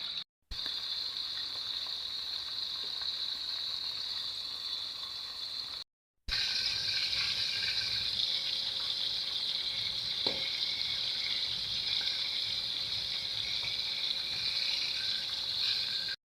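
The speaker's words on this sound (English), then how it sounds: "I pour flour on 1 fish, and we're gonna go ahead and put it in to fry" Flour-coated porgy fish frying in hot oil gives a steady, close sizzle and crackle that holds evenly throughout, broken only by a brief cut.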